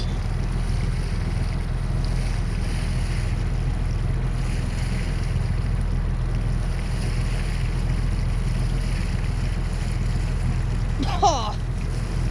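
A boat's rebuilt 1974 BMC diesel engine runs steadily in reverse with a low, constant rumble under wind and water noise outdoors. A short voice sounds near the end.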